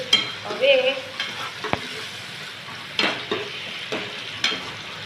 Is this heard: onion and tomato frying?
yes